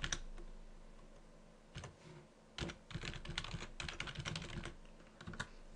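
Keys clatter on a computer keyboard as a fully qualified domain name is typed into a server setup field, in quick irregular bursts of soft clicks with short pauses between them.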